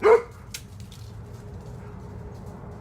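A single sharp dog bark at the start, fairly distant, followed by quiet room noise.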